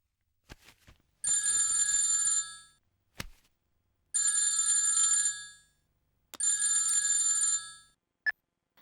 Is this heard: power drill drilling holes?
no